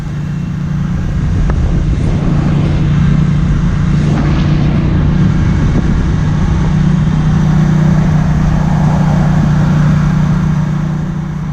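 A Triumph Street Twin motorcycle pulls from 40 up to 70 mph on a motorway, a loud, steady engine drone under heavy wind rush that barely changes throughout.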